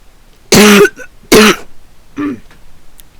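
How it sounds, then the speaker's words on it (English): Three sharp coughs close to the mic, the first two strong and evenly spaced, the third softer after a short pause. "I always have this cough no matter what."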